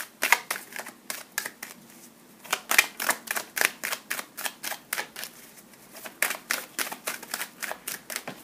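Tarot cards shuffled by hand for a reading, a steady run of crisp riffling snaps and slaps repeating in bursts, close and fairly quiet, with no voices.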